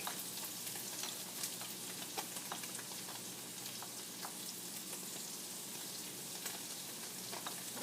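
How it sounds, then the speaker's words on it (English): Garlic sautés in a pan just used for tofu, part of a vegan menudo: a steady, even sizzle and crackle runs throughout, with faint scattered pops and no voices. "I'm going to be using the same pan to stir fry to saute my garlic"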